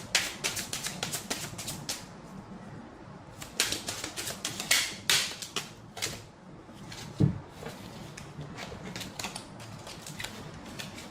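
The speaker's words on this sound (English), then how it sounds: "I've been dropping cards all day" Tarot cards are handled and dropped in a quiet room, making a run of light papery slaps, flicks and rustles in uneven bursts, close by with no talking.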